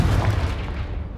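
A Confringo blasting spell goes off in Hogwarts Legacy, a single low, rumbling explosion boom that fills the short moment and fades slightly, with no voices.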